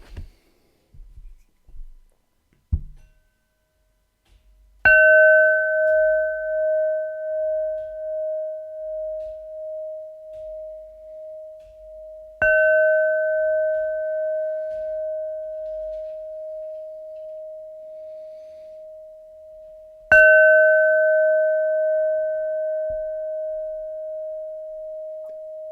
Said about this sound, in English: So let's begin first of all with bells.